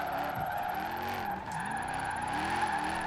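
An SUV drifting in Forza Horizon 4, its tires skidding and squealing in a steady, loud screech over engine tone, with the pitch wavering as the slide shifts, uninterrupted for about three seconds.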